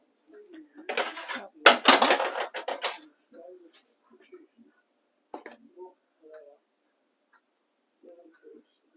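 A whisk clatters rapidly against a bowl of zabaglione in a short, loud, busy burst, followed by sparse clinks and quiet pauses.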